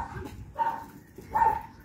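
A Labrador dog gives two short barks about a second apart, close by and fairly loud.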